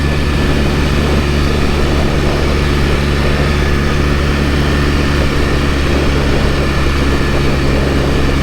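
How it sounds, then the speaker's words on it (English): Steady, loud roaring rush of wind buffeting close against the microphone during a Norton Commando 750 motorcycle ride in the Peak District, continuous throughout with no talking. "I apologise for the wind"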